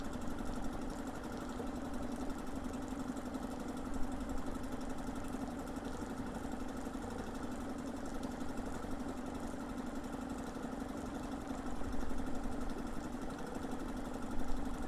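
A small Suzuki DF2.5 outboard engine idles steadily as it burns off the last fuel in its carburetor bowl, a constant close putter with a slight knock and no voices.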